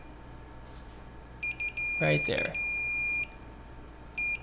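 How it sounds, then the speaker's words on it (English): A multimeter's continuity tester sounds a steady high-pitched beep while probing connectors on a motherboard, with short chirps, a longer tone and a brief voice partway through. "I'm getting a beep there."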